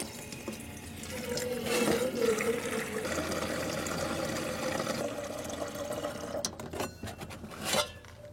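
Water runs steadily from the pump-fed tap of a Combi-Camp Valley tent trailer, a continuous near splashing stream with a few sharper knocks and gurgles toward the end.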